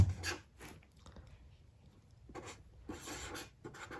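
Pen scratching numbers onto paper in quick bursts of strokes separated by brief pauses, close and quiet.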